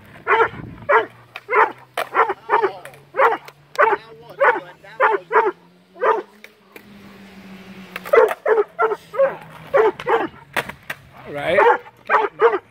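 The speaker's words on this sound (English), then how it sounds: "he's just barking." A dog barks repeatedly in short bursts, close and loud, with brief pauses and a low hum underneath.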